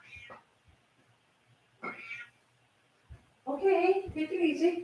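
A pet cat meows twice in a home during a late-night crafting session, two short cries close by, followed by a person speaking over further mewing.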